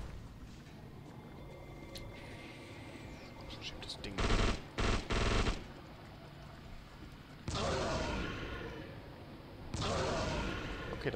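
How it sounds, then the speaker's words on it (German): Bursts of gunfire from the video game The Suffering: a short cluster of loud rapid shots, then two longer sustained volleys later, over a quiet background. "Schieße ich halt auf dich"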